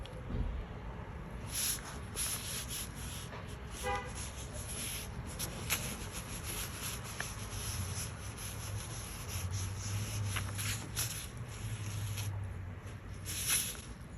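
Full lotus brush dragging across clean paper for a Chinese painting stroke, a faint dry rubbing and scraping that rises and falls over several seconds, close and without talk.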